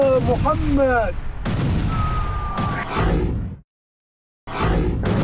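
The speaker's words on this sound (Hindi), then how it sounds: "वेस्ट बैंक के बेथलेहम शहर में हमास की मिसाइल गिरने का वीडियो" A missile fired from Gaza strikes Bethlehem in the West Bank: a voice cries out, then loud whooshing, rumbling bursts fill the air before the sound cuts to sudden silence and another roaring burst follows.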